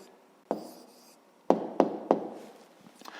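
Pen strokes on paper as the answer to a fifth-grade math exercise is written down: quiet scratchy writing broken by a few sharp taps, close and alone, with no talking.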